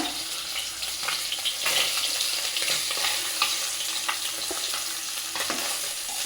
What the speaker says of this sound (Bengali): সব মাছগুলাই আমি এভাবে সুন্দর করে ভেজে নেব।